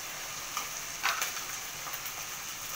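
Turmeric and ground spices sizzling in hot oil in a pan while matar paneer is cooked, a steady soft hiss with a few brief crackles and spatters, no talk.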